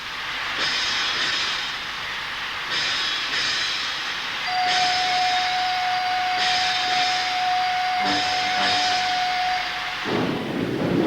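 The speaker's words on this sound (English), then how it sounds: "even the sound of steam" A steam sound effect on a cinema theatre organ releases a loud, steady hiss that swells and breaks off in bursts, with a thin sustained tone running through its middle and no voices.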